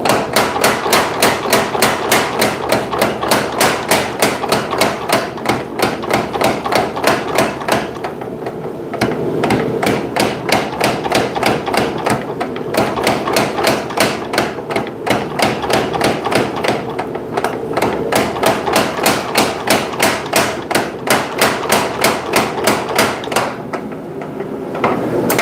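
Rapid, steady hand-hammer blows ringing on an anvil while forging a tip down, loud and close, with a brief pause partway before the rhythmic pounding resumes.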